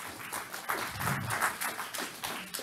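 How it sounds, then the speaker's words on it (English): Audience applause for a lecturer at a university talk on criminal infiltration in sports, a steady wash of many hands clapping at moderate distance, fairly faint throughout with no voices over it. "So please give a big applause to Professor Twans Papens."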